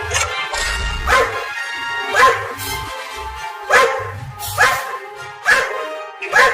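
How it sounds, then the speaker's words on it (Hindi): Cartoon dogs bark repeatedly in a comic Hindi animation about cats and kittens, loud sharp yaps and bow-wows coming in a steady series about once a second, close up with little else behind them. "तो भौंकना बंद करो"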